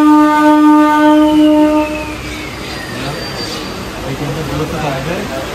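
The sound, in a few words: train starting to move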